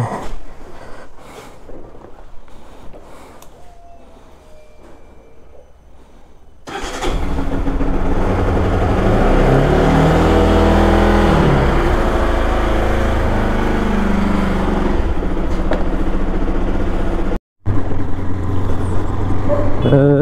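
A motorcycle engine cranks and catches, then settles into a loud, steady running rumble with occasional revving, after a quieter stretch with some talking.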